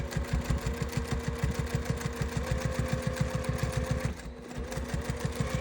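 A sewing machine stitches bias binding onto grippy fabric, running steadily with a fast, even mechanical rattle and a brief slowdown near the end, close by and with no speech.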